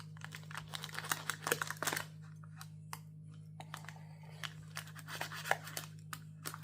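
A knife slowly cutting thick puff pastry for a vegetable quiche gives soft, irregular crisp clicks and scrapes against a steady low hum, close and faint, without speech.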